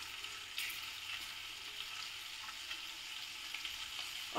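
Garlic frying in a pan for homemade white sauce pasta, a steady soft sizzle with faint clicks and a light scrape near the end, no voices.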